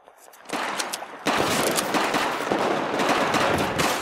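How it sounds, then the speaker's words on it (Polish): Dense, continuous gunfire and explosions from the video game Battlefield 4 multiplayer on PS4 fill the mix loudly and steadily, with overlapping bursts and no pauses. "Dwa strzały siadły."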